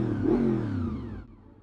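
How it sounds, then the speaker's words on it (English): A motorcycle engine revs up hard and close, a loud rising roar that holds briefly, then drops away abruptly into a lower idle. "Do you want to rev the engine?"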